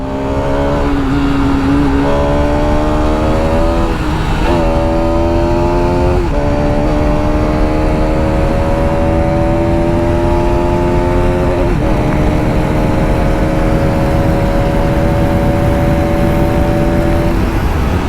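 A Bajaj Pulsar RS200 motorcycle engine roars loudly and continuously, climbing in pitch through several gear shifts as it accelerates hard to about 142 km/h.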